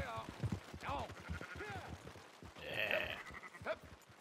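Sheep bleat in Red Dead Redemption 2, a few wavering calls rising through the scene while someone talks over them, with game ambience underneath.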